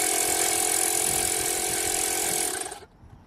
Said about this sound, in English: So this was the pump inflator.